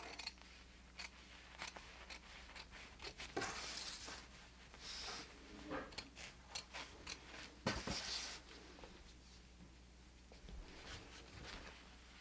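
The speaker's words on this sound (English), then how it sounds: "You're just going to use the scissors to cut off the extra cutaway." Scissors trim the extra cutaway stabilizer from the inside of a toddler shirt after appliqué embroidery, giving a quiet, irregular series of crisp snips and clicks close to the microphone.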